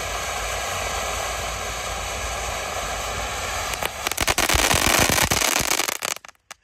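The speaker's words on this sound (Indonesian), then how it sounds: "Ini Conic Fountain ukuran 5 inci air mancur." A 5-inch Conic Fountain firework burns in an open rice field with a loud, steady roaring hiss, then breaks into dense, sharp crackling pops before cutting out abruptly.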